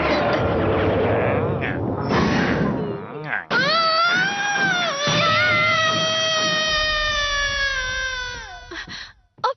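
A boy in a Doraemon cartoon lets out a loud, sustained scream of fright, a rising then slowly falling wail that lasts several seconds after a burst of noisy action.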